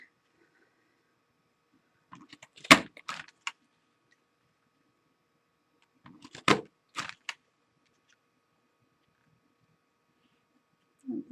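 A hand paper punch snaps through craft paper for an easel die-cut Christmas card, giving two short clusters of sharp clicks and crunches a few seconds apart, close and fairly quiet, with a faint third click at the end and no talk.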